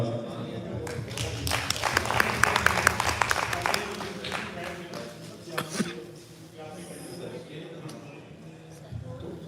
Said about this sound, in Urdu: ایک دفعہ پھر زوردار تالیاں ہونی چاہیے